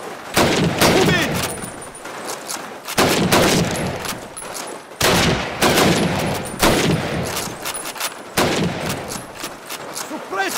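Gunfire in Call of Duty multiplayer on the Harbor map: dense bursts of automatic fire and rifle shots crackle loudly in repeated volleys, with brief lulls between bursts and faint voices mixed in.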